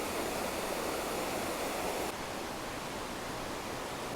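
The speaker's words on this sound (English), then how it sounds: "we're discovering there are a series of waterfalls cascading along the river" Waterfalls cascade in a series along a river at Cascade Falls on Minnesota's north shore, giving a steady, dense broadband roar of rushing water that fills the whole clip without pauses or voices.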